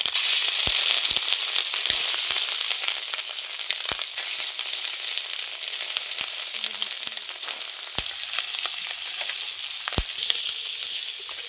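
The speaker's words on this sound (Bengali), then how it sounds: "আমার কড়াইটা খুব সুন্দর গরম হয়ে গেছে। এবার মাছের ডিমগুলো আমি ছেড়ে দেবো এক এক করে।" Rohu fish roe fries in a hot pan, a steady close sizzle running throughout with occasional sharp pops and crackles, no voices over it.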